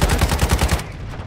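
Mortar strike explosions in the Warzone video game on Rebirth Island, heard as a fast, loud run of about eight evenly spaced booming blasts that stops abruptly, followed by a short fading tail.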